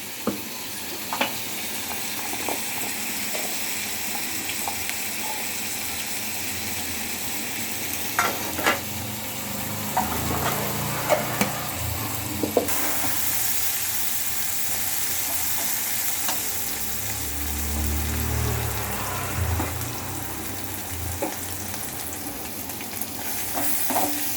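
Onions cook in a pan for a cauliflower and potato kurma, giving a continuous steady sizzle with occasional stirring scrapes and clatters, close and fairly loud throughout.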